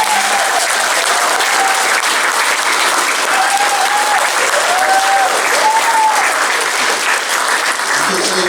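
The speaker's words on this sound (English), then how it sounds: "Can you give them a round of applause?" Loud, sustained applause from a choir concert audience fills the whole clip, dense and even throughout, with crowd noise and a few faint voices mixed in.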